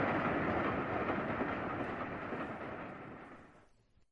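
The Polar Express train rumbles and clatters steadily as it speeds away, a broad continuous roar that slowly fades before cutting off.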